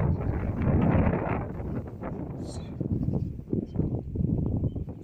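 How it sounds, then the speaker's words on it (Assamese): Wind gusting by the Geruwa river outdoors, a steady broadband rush across the whole stretch with swells and dips, close on the microphone and fairly loud. "বতাহ দি আছে ইয়াতে চাওক কিমান বতাহ দি আছে"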